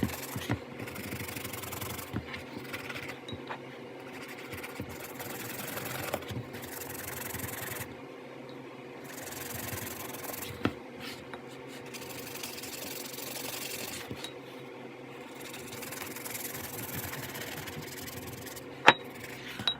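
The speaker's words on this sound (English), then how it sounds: "get that toothbrush I was talking about earlier, and we're basically just going to work ourselves all around the shoe and all around the dirty areas" Steady brisk scrubbing of a toothbrush working a gritty cleaning mixture over a dirty Jordan sneaker, a close, continuous rasping rub with small bumps and knocks and no talking.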